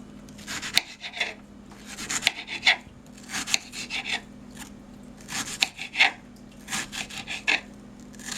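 Onions chopped with a knife on a cutting board for a home-cooked Mexican family meal, a series of short, crisp rasping cuts in uneven bursts, close and moderately loud, with no talking.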